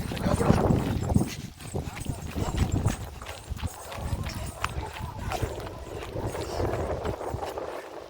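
Rapid hoofbeats of two racing bulls pound steadily over a loud, busy crowd at a bullock cart race, with voices shouting and talking throughout.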